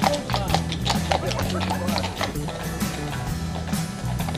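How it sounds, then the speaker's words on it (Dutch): Horses pull wagons in a town procession, their hooves striking pavement in steady, loud clip-clops alongside wheel rattle and creaking mechanisms, with a murmur of crowd and voices underneath. "werd er een toertocht met paard en wagen georganiseerd naar Hengelo's oudste winkelcentrum"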